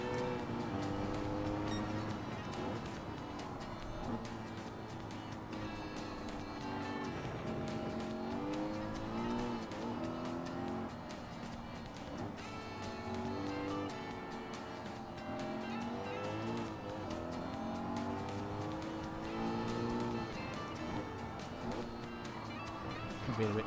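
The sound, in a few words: race car engine noise in video game Gran Turismo 7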